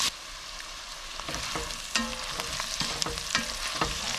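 Onions and carrots sizzling in a pot for beef bourguignon, a steady hiss under repeated close scrapes and taps of a spoon stirring, with no voices.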